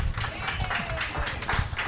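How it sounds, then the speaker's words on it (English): Audience applause at an AI conference, a steady wash of many hands clapping at moderate loudness for about two seconds, with no voices standing out. "So a very big round of applause for Yigal Erlich."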